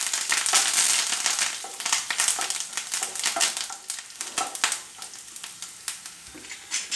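Curry leaves drop into hot oil with garlic and ginger for a green chilli tamarind curry, setting off a loud, crackling sizzle with sharp spatters that gradually settles into an uneven fry.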